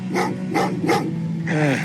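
Dog in the Terminator Resistance video game barking three short, sharp times close by, followed by a higher whining yelp.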